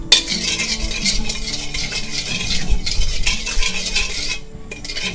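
Shredded chicken stir-fried in a pan with fish sauce and sugar, a steady hiss of frying under repeated scraping and clinking of a metal spatula against the pan, close and continuous.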